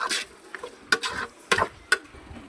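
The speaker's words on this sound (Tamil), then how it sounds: "கறியை போட்டு நல்லா இப்போ கிண்டிக்கிறணும்." A spoon scrapes and stirs mutton pieces in a pan for a salted mutton curry, making a few irregular, close scraping strokes with soft frying underneath and no talking.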